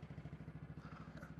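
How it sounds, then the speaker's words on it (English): A sprayer unit's engine starts on the starter with the choke set to half, then settles into a steady, rapid chugging pulse, faint and without voices. "I can start the engine. So I'm gonna choke it to half, hit the starter."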